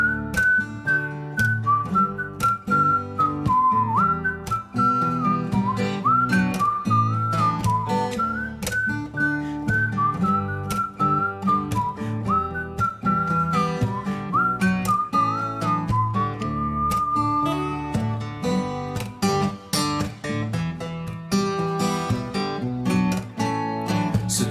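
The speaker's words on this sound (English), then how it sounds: "If you can whistle, whistle." During a live stream performance, a steady whistled melody rises and wanders above a guitar-backed song and carries on for many bars, clear and fairly close.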